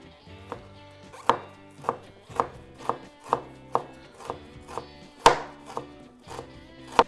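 A knife slices by hand through frozen boneless short ribs on a board, about a dozen crisp, evenly spaced cuts with sharp thuds, close and clear, no talk.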